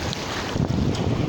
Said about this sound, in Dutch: Maar de zee, die golven komen dichterbij.